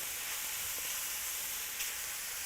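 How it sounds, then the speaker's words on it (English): Spices sauté in a pan with a continuous, even sizzling hiss, fairly quiet and steady, with faint stirring clicks underneath. "So we want to cook down and really toast up and saute our spices."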